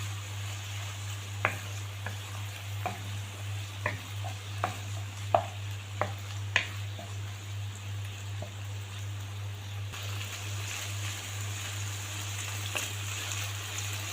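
Chicken stirred in a pan with garlic, thyme and butter, a gentle sizzle broken by a series of scattered spoon scrapes and taps over a steady low hum.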